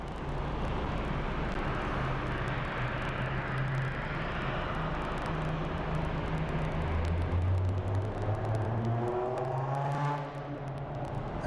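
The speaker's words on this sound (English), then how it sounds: "And that was a loud car." A loud car passes outside an airport, a broad rumbling roar with a rising and falling engine tone that builds to a peak and then recedes, heard without any talk.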